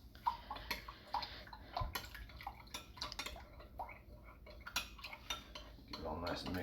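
Honey water stirred vigorously with a spoon in a glass, producing a quick, irregular run of light clinks and scrapes, with some faint voices in the background.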